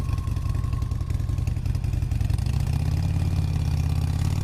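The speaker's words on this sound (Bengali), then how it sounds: "আর বাইকে উঠে সোজা বাসার দিকে রওনা দেয়" A motorcycle engine runs steadily at close range, a low rumbling idle that settles into a slightly deeper, even drone as the bike pulls away, loud and continuous with no talk.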